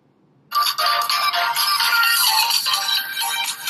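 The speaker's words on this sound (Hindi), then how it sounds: "ये एक ट्रैक हम यूट्यूब से स्ट्रीम कर रहे हैं" Music track streamed from YouTube playing through the loudspeaker of a Nubia M2 Play smartphone, starting abruptly after a brief silence and continuing loud and steady, bright and somewhat tinny.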